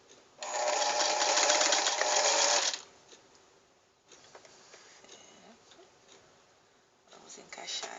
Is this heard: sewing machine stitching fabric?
yes